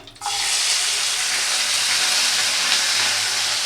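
Cashews and raisins dropped into hot ghee burst into a loud, dense sizzle that starts abruptly and then holds as a steady frying hiss, close and with no talking.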